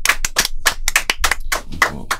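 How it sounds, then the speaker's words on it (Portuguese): An audience at a live comedy talk show in Portugal breaks into applause, a burst of loud, closely spaced hand claps lasting about two seconds. "Uma salva de palmas para esta mulher de coragem."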